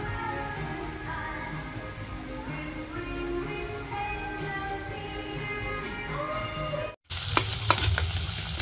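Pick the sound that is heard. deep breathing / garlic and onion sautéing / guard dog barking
garlic and onion sautéing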